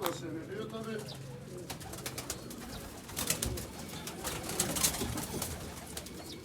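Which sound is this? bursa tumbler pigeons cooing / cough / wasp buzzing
bursa tumbler pigeons cooing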